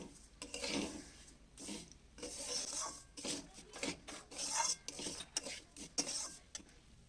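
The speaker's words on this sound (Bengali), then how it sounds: "একটু লবণ দিয়ে একটু নাড়াচাড়া করে নিই।" Salt is stirred into semolina in a pan with repeated rasping scrapes of a spoon against the metal, uneven rhythmic strokes close and fairly quiet.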